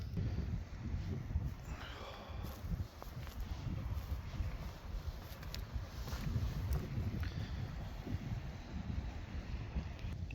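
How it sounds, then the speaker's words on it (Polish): Strong, steady wind buffets a microphone on a rocky Norwegian shore, a low rumbling roar that never lets up, with faint water sounds beneath it. "Wiatr nie ustaje w ogóle."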